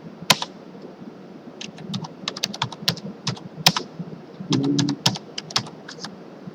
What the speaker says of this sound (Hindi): अब मैंने इसको लिखा, जैसे टाइप किया